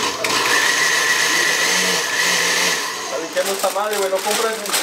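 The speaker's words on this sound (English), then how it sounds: "Let me blend it one more time a little bit." A loud, close blender whirs continuously, its motor pitch wavering and shifting toward the end as the contents churn.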